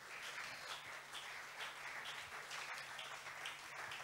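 Church congregation applauding and cheering in praise during a seminar service, a steady dense wash of clapping that holds evenly throughout.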